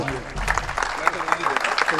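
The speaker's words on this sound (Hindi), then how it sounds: "दोस्तों, तालियों से इस्तकबाल कर दीजिए।" Audience clapping at an award distribution during a mushaira in Malad, a dense burst of applause with a voice speaking over it.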